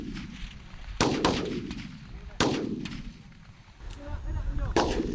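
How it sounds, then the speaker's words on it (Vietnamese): Military marksmen from Military Region 1 fire guns at targets during a shooting challenge, with three or four sharp, loud reports spaced a second or so apart, each ringing out into a decaying echo over a low background rumble. "thực hiện các cái phát bắn tiêu diệt mục tiêu."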